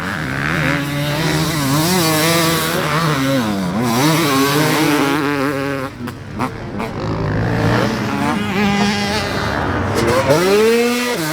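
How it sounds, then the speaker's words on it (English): A 2000 Honda CR250 two-stroke dirt bike engine, Payne-built and fitted in a 2015 aluminum frame, runs loud and close, its raspy note rising and falling through repeated revs with a brief dip midway. "This engine is a 2000 CR250 engine built by Payne also"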